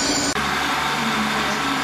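A train at Cardiff Central station, a close, loud steady rumble and hiss with a brief drop early on, no talking.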